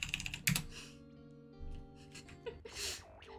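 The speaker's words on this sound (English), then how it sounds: "I love typing in chat." Keyboard typing for in-game chat during a Roblox-style fighting game session, quick clicky keystrokes in short bursts, fairly close and moderately quiet, with a few breathy gasps and vocal noises mixed in.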